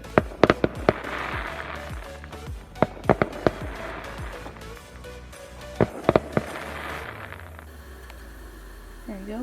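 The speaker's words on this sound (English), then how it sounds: "the fireworks started again tonight, so that's kind of fun." Fireworks pop and boom irregularly in the distance, heard from a small sailboat at anchor on the Bay of Quinte, sharp cracks in scattered clusters with faint whistling trails, over quiet cabin background and a brief murmur of voices.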